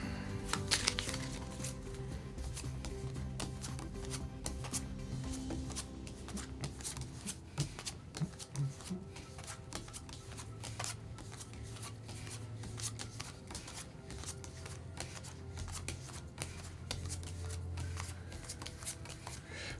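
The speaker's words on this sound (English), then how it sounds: "And then we'll deal these cards out." Playing cards for The Fellowship of the Ring trick-taking game are shuffled and dealt on a table, a long run of crisp, rapid riffling and snapping card sounds that come close and clear, with only faint background noise.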